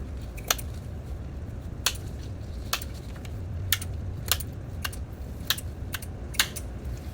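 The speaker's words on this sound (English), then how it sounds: "I'm gonna cut off all the leaves and all the flowers" Leaves and flowers being snipped off a passion flower stem, with about nine sharp, isolated clicks of cutting spaced irregularly, close by over a low, steady background rumble.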